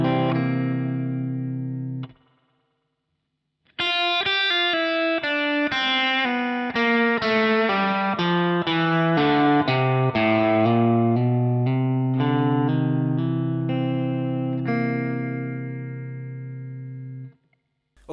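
A blues lick on electric guitar, with a ringing opening chord, a short gap, then a run of bright single notes that settles into a long sustained final chord. The tone is slightly driven, and no one speaks.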